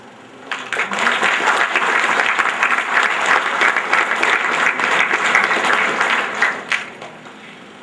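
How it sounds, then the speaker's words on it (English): An audience at an institution's morning function breaks into loud, sustained applause, a dense wash of clapping that swells quickly and fades over several seconds. "And give a big round of applause."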